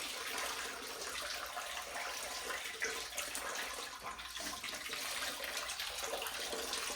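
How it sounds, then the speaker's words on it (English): Water running steadily into a sink while fabric is wrung out, a continuous splashing rush with small irregular surges, moderately close and alone. "I'm gonna transfer it to the sink so I can wring it out"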